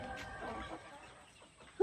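A chicken clucks softly at a park, with short low calls in the first second over quiet outdoor ambience, followed by a sudden louder sound at the end.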